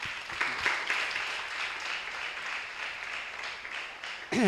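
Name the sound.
audience clapping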